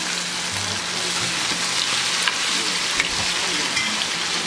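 Sweet and sour turkey sausage fries for a second time over very high heat, a loud, dense, continuous sizzle with a few faint clicks from utensils, close and with no talk.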